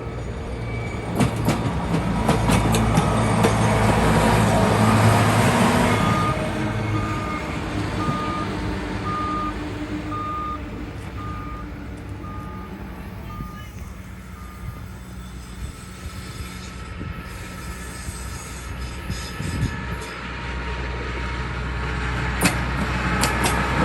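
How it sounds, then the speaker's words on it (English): Track work vehicles roll along the railway with heavy rumbling and rattling wheels, a steady backup beeper pulsing in the middle stretch, engine noise swelling again near the end. "we saw these two vehicles heading off to do some track work"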